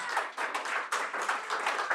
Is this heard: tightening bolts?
no